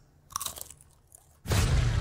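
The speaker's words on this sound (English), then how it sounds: "Crunch! Cheez It grooves!" Crunching Cheez-It Grooves crackers: a few crisp bites near the start, then a loud, dense burst of crunching that fills the last half second, with no talk.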